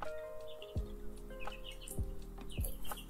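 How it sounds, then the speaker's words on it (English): Several real chickens clucking and chirping softly at close range, with a few short sharp calls spaced irregularly over a low constant hum. "You can hear the chickens?"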